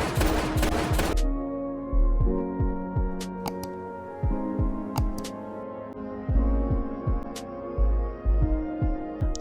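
Gunshots at shooting practice in a film, heard as a rapid burst of fire followed by a string of spaced single reports over a low hum, each with a short echoing tail.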